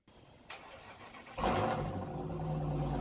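A Jeep Grand Cherokee Trackhawk V8 SUV on snow starts up with a click and rising whirr, then catches into a loud, steady low engine rumble that holds close by.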